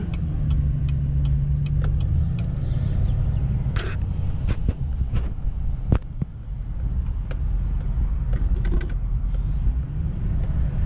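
A car rolling in reverse, its low steady engine rumble close by with scattered clicks, ticks and creaks from the cabin over the top.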